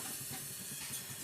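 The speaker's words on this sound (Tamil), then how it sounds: "இப்போ கொதிக்க ஆரம்பிச்சிச்சு." Water boiling in a puttu steamer while tapioca puttu cooks, giving a close, steady steam hiss with faint rhythmic bubbling underneath and no talking.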